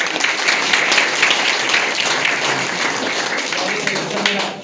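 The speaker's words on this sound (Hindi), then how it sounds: "तो जोरदार के लिए ताली" A room full of students bursts into loud, dense applause for a classmate who passed the SSC GD exam, many hands clapping continuously at close range with voices mixed into the din.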